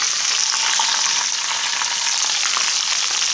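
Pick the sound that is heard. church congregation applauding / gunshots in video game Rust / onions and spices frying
onions and spices frying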